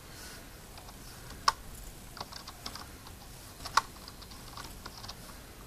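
Typing on a Logitech K400 wireless keyboard, with a steady run of soft, close key clicks and two sharper, louder keystrokes standing out, and no voices.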